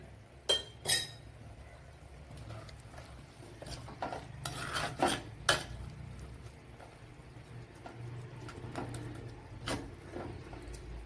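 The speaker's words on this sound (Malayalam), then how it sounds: "നല്ലതുപോലെ ഇളക്കി യോജിപ്പിച്ച് കൊടുക്കണം." Onion aviyal masala is stirred and mixed in a pot, giving soft scraping sounds and occasional sharp clinks of a spoon against metal over a quiet background.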